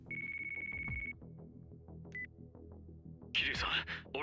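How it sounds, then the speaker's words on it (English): In the video game Yakuza 5, a phone ringtone sounds as a steady electronic tone for about a second, followed by soft game sounds and talk. "Ring, ring, ring. Phone call."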